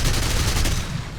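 Fw 190A5 cannons firing in the War Thunder air combat game: a dense, continuous roar of rapid fire that blends into steady loud bursts and eases slightly near the end.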